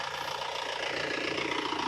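A tractor engine runs on and on in a dense, steady rumble with a rough mechanical texture, fairly close and loud, with no voices.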